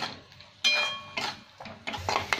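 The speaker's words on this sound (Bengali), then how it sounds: "আরও 2-3 মিনিট ভালো করে ভেজে নেবো মশলাটা" A metal spatula scraping and clattering in a pan as masala with Kashmiri chilli powder and turmeric is fried and stirred, with several distinct scrapes and a soft sizzle underneath, close and fairly quiet.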